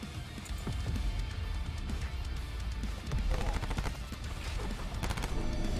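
Gunfire from a gun in a video game rattles on steadily in rapid repeated shots, fairly quiet and continuous, with sharper bursts clustering toward the end.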